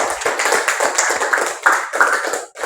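A small group applauds, a brisk burst of clapping hands that stays lively for a couple of seconds before breaking off.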